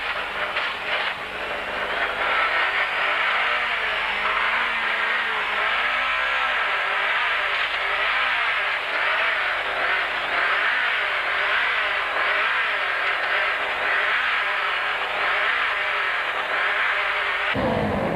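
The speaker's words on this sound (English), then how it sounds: "his rally is about to end with a dropped valve. Note how he has to dip the clutch to get the car up the hill" A rally car with a dropped valve climbs a hill, the clutch dipped, making a loud, strained, uneven engine drone with wavering pitch that runs continuously before cutting off at the end.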